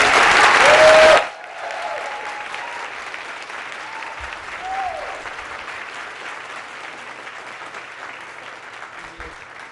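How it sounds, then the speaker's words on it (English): An audience gives applause for the President and First Lady of the United States at an event in Virginia. A short loud burst is followed by quieter, sustained clapping that fades under faint voices. "give a round of applause to the President and First Lady of the United States"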